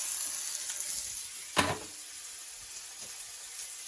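Beef burger patty sizzling steadily in a cast iron pan just after being flipped, a continuous close frying hiss with one brief sharp crackle partway through.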